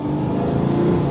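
A Mercedes Sprinter van engine, just repaired, pulls under acceleration with a steady, loud, close droning roar and no pauses.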